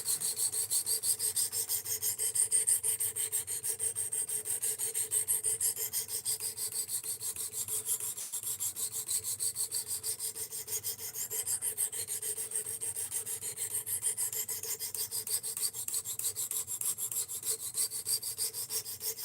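A Work Sharp RMX sharpener grinds a knife bevel with a steady, close, continuous rasping hum and a faint whine, unbroken for the whole stretch and with no talking.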